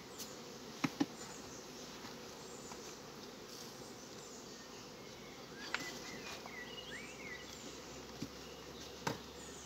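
A steady, close drone of many honey bees buzzing together, broken by a few faint clicks and taps.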